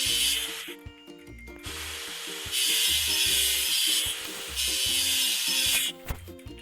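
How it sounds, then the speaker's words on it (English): Rust is scrubbed off a metal machine in repeated back-and-forth rasping strokes, close and loud, with brief pauses between bursts of abrasive rubbing and no talking. "Let's get rid of the machine's rust."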